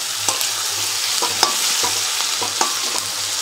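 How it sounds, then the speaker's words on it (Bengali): Onions frying in a pan until reddish brown, a dense, close sizzle with a regular rhythm of spatula stirs and light metallic taps, no voices. "পেঁয়াজটা লাল লাল করে ভেজে নিতে হবে"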